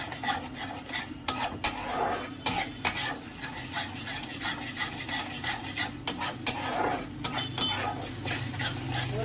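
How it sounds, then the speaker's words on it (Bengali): Masala for kathla fish curry is stirred in a pan over a gas flame: a spoon scrapes and rubs repeatedly at the metal, in close, uneven strokes with scattered clinks. "ভালো করে আমি মশলাটা এবার একটু কষিয়ে নিচ্ছি।"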